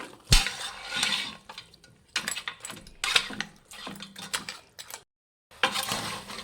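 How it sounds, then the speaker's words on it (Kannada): A spoon scrapes and clinks in a pan as turmeric is stirred and fried in oil, in short uneven bursts of metal-on-pan scraping with a brief pause near the end, close and fairly quiet. "ಮಿಕ್ಸ್ ಮಾಡಿ ಫ್ರೆಂಡ್ಸ್ ಇದು ಹಸಿ ವಾಸನೆ ಹೋಗೋವರೆಗೂ ಫ್ರೈ ಮಾಡಬೇಕು"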